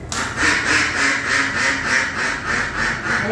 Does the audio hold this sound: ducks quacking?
yes